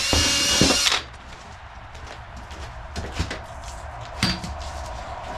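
A power drill with a hole saw grinds loudly through a piece of cardboard for about a second, then cuts off, leaving a few faint knocks and clicks.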